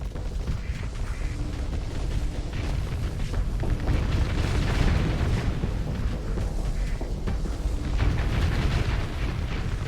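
Explosions rip through a Legion ship in the space combat game Starsector, a dense continuous roar of booms and blasts rumbling loudly throughout with no pauses.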